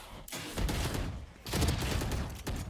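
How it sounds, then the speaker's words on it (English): A Stinger submachine gun fires in Valorant, the competitive shooter game. Rapid, dense, rattling bursts come in three loud, close volleys with short gaps between them. "Nice shots with the Stinger"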